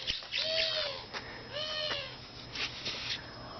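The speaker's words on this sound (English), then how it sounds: "birds are having fun." Birds calling in a backyard homestead garden beside permaculture beds, a clear rising whistled call repeated twice with brighter chirps scattered through, fairly near and steady against a soft outdoor background.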